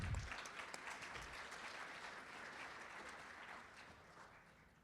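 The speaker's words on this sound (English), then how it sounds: "so round of applause for that." Applause from the audience at a forestry keynote gathering in Arizona, a dense, steady clapping that lasts the whole stretch and slowly tapers off near the end, with no talking over it.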